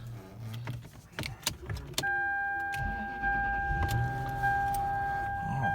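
A 2006 Lexus LS430 cold-starts with clicks and key sounds, the engine catching and settling into a steady idle, while the power mirrors whir as they fold.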